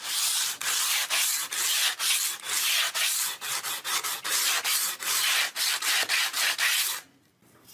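A 220-grit sanding block rubs across the fret edges along the side of a cheap child's Telecaster-style guitar neck in quick, regular back-and-forth strokes, a close, raspy scraping that stops near the end.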